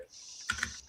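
Computer keyboard keys click in a quick, soft burst of typing that lasts about a second, faint and close by.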